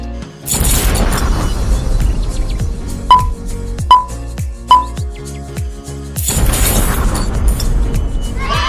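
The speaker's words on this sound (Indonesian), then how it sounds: "lepaskan bagian ujung dan terjadilah ledakan energi kinetik beruntun seperti ini" A rapid clattering burst of popsicle sticks snapping apart, a few sharp clicks, then another rattling cascade; no speech.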